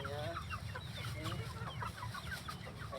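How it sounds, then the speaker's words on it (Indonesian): Free-range kampung chickens cluck steadily and close by while being fed tempeh and tofu, with many overlapping clucks over a continuous low rumble. "Saya kasih makan lagi nih. Ini makannya ayam."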